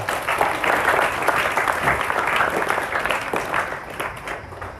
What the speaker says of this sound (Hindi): एक बार फिर ताली बजाओ अपने लिए